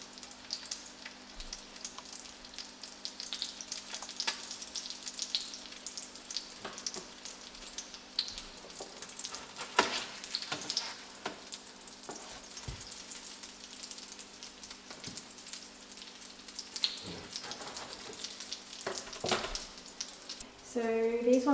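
Freshly caught Australian salmon frying in a pan, a steady soft sizzle and crackle running throughout at moderate volume, with occasional sharper pops and no talk.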